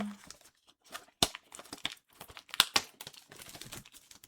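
A Panini football sticker packet is torn and crinkled open, a series of sharp close rips and soft plastic rustles at a quiet level.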